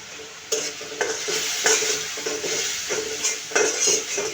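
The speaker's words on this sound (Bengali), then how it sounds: "এখন আমি এই মশলাগুলো কষাবো।" Ground turmeric, coriander and chili powder being stir-fried in a pan for a fish chorchori, with repeated scraping strokes of a spatula over a steady hot sizzle, close up and with no speech.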